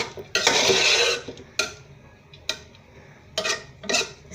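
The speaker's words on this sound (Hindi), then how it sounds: "अब इसमें करूँगी मिक्स।" A spoon stirs Sindhi biryani rice with lemon slices and black cumin in a metal pot, giving a scraping rustle followed by a few separate clinks and taps against the pot, close and alone.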